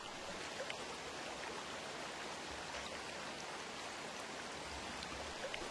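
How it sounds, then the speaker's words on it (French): A river runs over a bed of large pebbles just upstream of rapids, its current strong and steady, giving a continuous, even rushing wash with no voices. "Située juste à l'amont d'un secteur de rapide, la rivière coule ici sur un fond de galets de bonne dimension"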